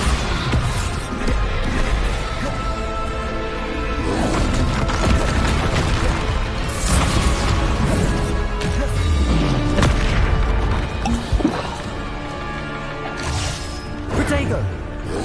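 Bombarda explosion spells from Hogwarts Legacy going off repeatedly amid combat, loud booms and crashing debris with splintering impacts, constant clattering action throughout.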